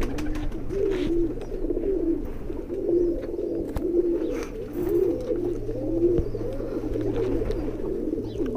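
High flyer pigeons coo in repeated soft, rolling phrases close by, with constant low background hum and occasional faint clicks.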